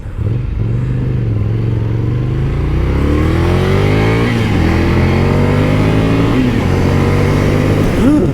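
A Ducati Scrambler motorcycle ridden on Los Angeles roads gives a loud, steady engine drone with rising and falling revs as it accelerates and shifts, alongside heavy wind rush, and no voices.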